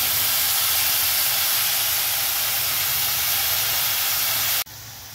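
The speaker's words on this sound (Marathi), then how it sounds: "कांदा जोपर्यंत लाल होत नाही तोपर्यंत आपल्याला परतीत राहायचं आहे कांदा" Onion frying in a pan for whole masoor dal, kept stirring until it turns red-brown, a loud, steady sizzling hiss that cuts off abruptly near the end, with no talk.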